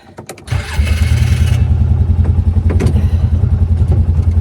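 A four-wheel-drive vehicle's engine cranks briefly and catches, then settles into a loud, steady idle close by on an icy homestead.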